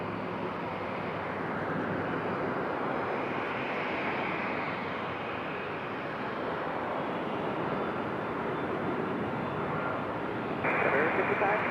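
A fixed-wing airliner lands on runway 5 left at Raleigh-Durham International Airport, giving a steady, loud broadband roar that holds for the whole stretch and swells slightly near the end, with spoken voices faint beneath it.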